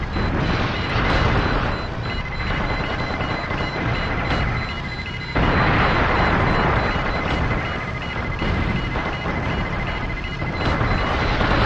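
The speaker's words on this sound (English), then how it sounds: "I couldn't even see that incoming missile." Missile explosions in the mech combat video game Steel Battalion, heard as loud, continuous roaring blast noise that fills the whole stretch, with a sudden jump in intensity partway through.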